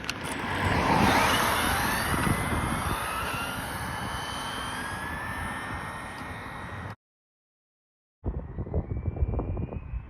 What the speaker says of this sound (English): Get a nice long run here. Full throttle.